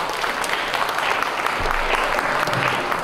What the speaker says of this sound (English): Can we give them a round of applause for their beautiful artwork?